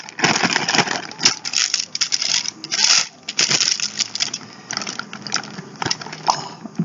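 Cinnamon-scented wax is cut up, making loud, close crunching, snapping and cracking in irregular bursts with short pauses between them and no speech.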